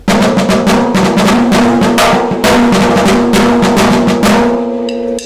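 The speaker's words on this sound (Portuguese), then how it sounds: "Este é o som da caixa." Snare drum of a school marching band, played alone in fast, loud, sharp strokes that keep up a steady driving roll and accent pattern for several seconds before cutting off.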